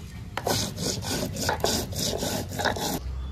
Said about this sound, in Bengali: পাটাতে জিরে ঢেলে নিয়েছি, এখন বেটে নেই।